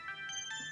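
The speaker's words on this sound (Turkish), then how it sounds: "Telefonum çalıyor." A mobile phone ringtone rings indoors, a short repeating electronic melody of bright tonal notes at moderate volume, with no talking over it.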